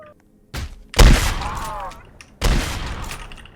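Gunfire in the Roblox game Dead Rails, with a few loud, sharp shots and bursts that each decay over roughly a second and are separated by short gaps.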